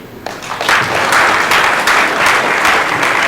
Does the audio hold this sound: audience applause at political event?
yes